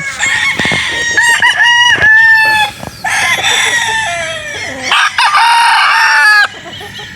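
Sweater Boston gamefowl rooster, local banded, at a Batangas game farm, crowing repeatedly and loudly up close, with long drawn-out calls separated by short pauses and no voices.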